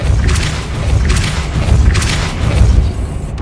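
Repulso spell blasts in Hogwarts Legacy, heavy booming whooshes in a loud continuous rumble with three swelling bursts about a second apart, close and alone with no talk.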